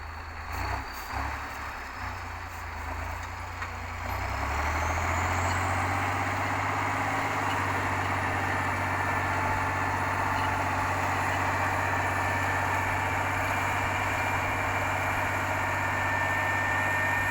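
A wheeled T-150 tractor's engine chugs at idle close by, growing louder and heavier after a few seconds, then running steadily and evenly.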